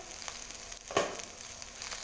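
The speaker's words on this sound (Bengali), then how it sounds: "চিড়ে রাখা যে টমেটোটা আছে সেটাও দিয়ে দিলাম এবার এটা একটু ভাজা হতে দেব" Vegetables and tomato fry in a pan with a soft continuous sizzle, a brief louder burst of crackle partway through, then the steady fizz carries on alone.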